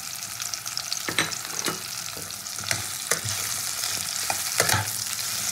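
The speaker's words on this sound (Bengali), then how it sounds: "এবার আমি এইভাবে বড় বড় করে কেটে নেওয়া পেঁয়াজটাও দিয়ে দেবো এবার ঘিয়ের মধ্যে" Big chunks of onion frying in ghee for chicken do pyaza, a steady loud sizzle with repeated sharp scrapes and clatters of stirring across the pan, no voices.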